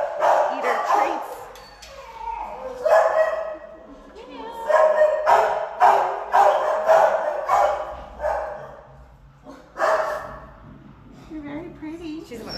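A terrier retriever mix barks at an animal shelter, sharp repeated yips and bow-wows in uneven bursts with brief whimpers between, close and loud, while people talk nearby.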